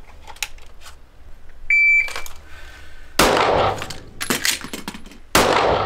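A shot timer gives a short high electronic beep, followed by several loud, echoing gunshots in quick succession.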